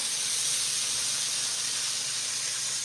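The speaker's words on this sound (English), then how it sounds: "So let's pop on our next two. We'll sear these off." T-bone steaks searing in a hot pan, a loud, continuous hissing sizzle throughout with no talk.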